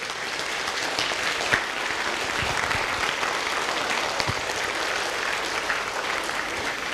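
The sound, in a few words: applause from the audience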